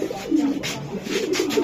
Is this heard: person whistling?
no